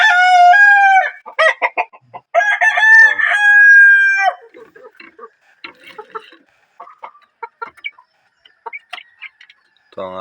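Chickens at feeding time after rain, with a loud rooster crowing twice near at hand, followed by scattered soft clucks and pecking noises from the flock.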